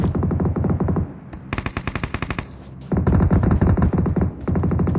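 Automatic gunfire in the video game PUBG rattles out in loud, rapid bursts, several sustained volleys with brief gaps between them, close and dominant.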